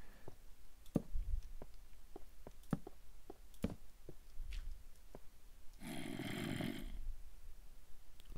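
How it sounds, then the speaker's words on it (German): Snoring in Minecraft gameplay, with a series of sharp clicks and short snorts followed by one longer, louder noisy snore burst, heard alone without talk. "Wer schnarcht so spät durch Nacht und Wind?"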